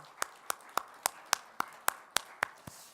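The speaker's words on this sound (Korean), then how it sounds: "우리 하나님께 다시 한번 감사의 박수 드릴까요?" A church congregation at a Korean Friday worship service near Christmas claps in unison, about ten evenly spaced sharp claps in a steady rhythm, close and fairly loud.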